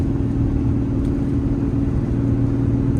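A hotshot truck cruising along a road through Western Maryland, its steady engine drone and low road rumble filling the cab, close and continuous with no talk.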